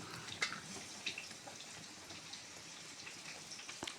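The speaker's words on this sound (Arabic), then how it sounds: "بصوا الميه بتنزل بالراحه" Water draining slowly through a kitchen sink strainer, a soft close trickle with faint scattered drips, quiet and steady with no talking.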